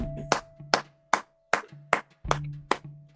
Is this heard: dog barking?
no